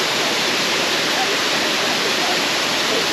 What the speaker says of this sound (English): Believe how high up the top of the waterfall is.